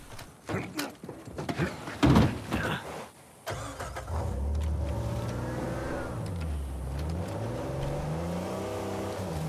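A car in the video game Uncharted 4 starts up after a few clunks and door thuds, then its engine settles into a steady, rising and falling drone that carries on close and loud.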